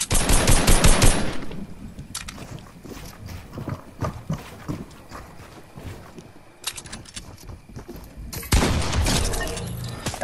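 Video game gunfire from another player, rapid automatic bursts and single shots cracking in close clusters with quieter gaps, heavy volleys opening and closing the stretch.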